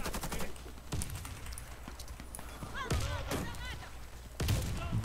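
Gunfire in the online shooter Warface, sharp bursts of automatic fire and single shots cracking at irregular intervals, with someone talking over the action between shots.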